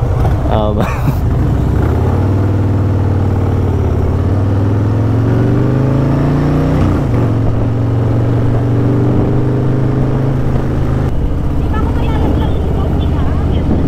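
A Harley-Davidson big bike used as a habal-habal motorcycle taxi revs loudly up close, its engine note climbing and falling through several throttle swells while people talk nearby.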